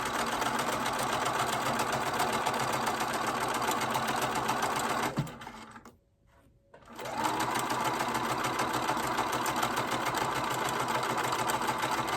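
Sewing machine stitching a quarter-inch quilting seam with 50-weight cotton thread, a loud, steady whir that runs continuously, cuts out briefly for a pause of about a second, then resumes at the same fast pace.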